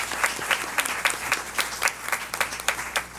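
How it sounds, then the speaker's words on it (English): Applause fills a school board of education meeting, a steady round of clapping from a seated audience with crisp individual claps standing out, moderately loud and continuous throughout. "Let's give him a great big round of applause."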